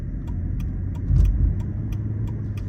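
Steady low road and engine rumble inside a moving 2006 Mercedes-Benz C280 W203 sedan, with a brief swell of louder rumble partway through and faint periodic ticks above, no talking.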